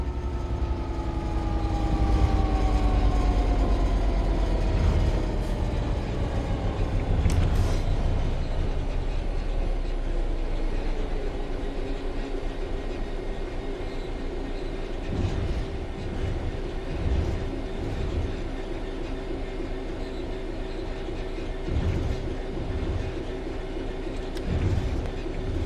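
A train rolls along level track with the throttle at zero, a steady rumble of wheels and wagons that begins with a falling engine whine and then settles into a continuous, fairly loud drone.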